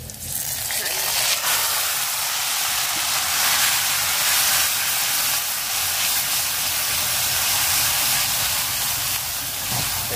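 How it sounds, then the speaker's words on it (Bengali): Leafy greens sizzle and hiss in hot oil in a home kitchen, a loud, continuous, close frying sound that holds steady throughout. "শাক ভাজতে কিন্তু মজাই লাগে"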